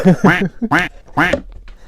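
A person imitates a duck, giving several short nasal vocal quacks in quick succession at close range, introducing a pair of Nike Oregon Ducks slides.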